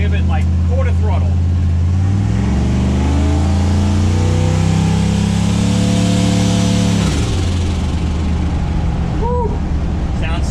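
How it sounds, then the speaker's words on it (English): Turbocharged LS-swapped Chevrolet C10 squarebody pickup revving up at quarter throttle under load, a loud, steady rising engine drone with audible turbo spool that climbs for several seconds, then cuts off into rougher idle rumble. "the turbo doesn't really spool when it's at idle, but when you have a load under it, you'll hear it"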